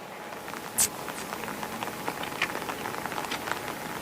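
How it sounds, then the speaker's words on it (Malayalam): Steady rain patters across the whole stretch near the Gangavali River, a soft even hiss broken by scattered drips and small taps, with no voices. "മഴ വീണ്ടും തുടങ്ങിയിട്ടുണ്ട്"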